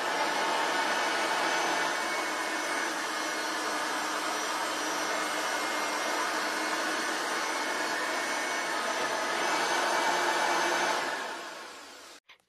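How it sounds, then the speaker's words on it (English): A direct air vacuum cleaner runs steadily with a loud, broadband whooshing roar for about eleven seconds, then winds down and cuts off near the end. "Now it's the direct air vacuum's turn."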